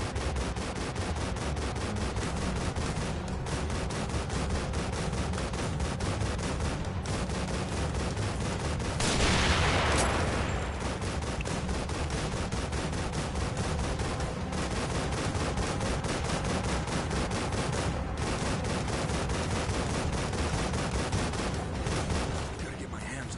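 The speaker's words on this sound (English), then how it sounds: "Machine gun." Sustained machine gun fire in The Evil Within runs as a rapid, unbroken stream of loud shots for over twenty seconds, with a brief surge of heavier blast noise midway.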